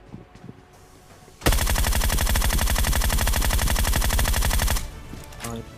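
Rapid automatic gunfire in PUBG on the Miramar map erupts suddenly and rattles continuously for about three seconds, loud and close, then cuts off to quieter background noise.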